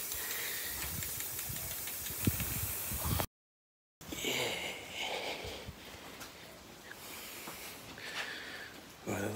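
Paint sprayed onto a Predator toy gun in short hissing bursts, faint and close, with a brief silent gap partway through.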